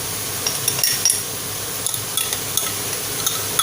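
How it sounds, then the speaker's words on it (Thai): Metal utensil scraping and tapping in a pan as Thai curry paste is stir-fried with pork for a pumpkin pork curry, with irregular light clinks and a soft sizzle underneath, close and without talk. "เราก็ผัดเครื่องแกงให้สุก"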